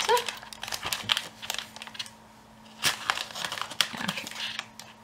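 Plastic and paper packaging of a Kuretake Gem watercolor set is crinkled and torn open by hand, giving irregular close bursts of crackling and rustling with short pauses between them.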